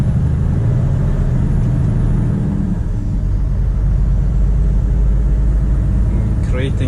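Heavily loaded truck with trailer pulling away on a snowy winter road, a deep constant engine rumble with low harmonic drone, loud and close from the cab, with someone talking over it.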